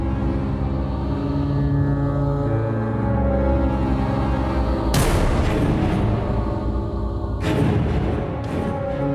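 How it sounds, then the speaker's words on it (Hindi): Two heavy, booming gunshot blasts ring out nearby, one midway through and another near the end, over a steady droning background. "कहीं लग रहा आसपास गोली चली है"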